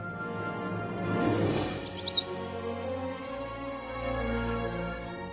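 Pet bird Cheep Cheep from the game Unwritten Tale 2 gives a quick cluster of three or four bright chirps near the middle, heard over a steady game music bed.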